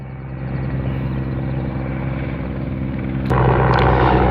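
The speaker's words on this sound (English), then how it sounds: "wait for the helicopter to pass first." Helicopter passing overhead on a sandy beach run, a steady, loud rotor and engine drone that swells sharply near the end as it comes closest, with no voices.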